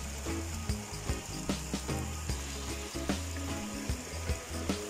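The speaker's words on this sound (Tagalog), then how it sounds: "Talagang ilog po sila." River water fed by a spring rushes steadily near a campsite in mountain country, with a dense, continuous splashing wash broken by irregular gurgles and bursts. No talk is heard over the flow.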